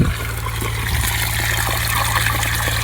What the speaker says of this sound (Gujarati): અરે પાણી નીકળ્યું મિત્રો